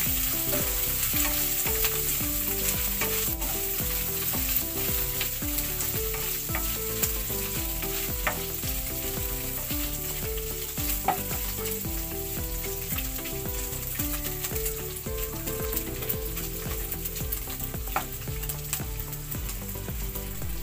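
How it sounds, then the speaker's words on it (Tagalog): Smoked fish (tinapa) sautéing in a pan for a mung bean (monggo) dish, a steady close sizzle and frying crackle with rhythmic stirring scrapes throughout, no talk. "Hahalu-haluin ko, igigisa ko rin itong tinapa para hindi siya malansa."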